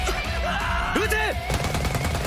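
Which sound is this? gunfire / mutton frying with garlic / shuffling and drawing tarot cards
gunfire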